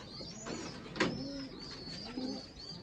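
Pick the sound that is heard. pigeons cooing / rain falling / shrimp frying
pigeons cooing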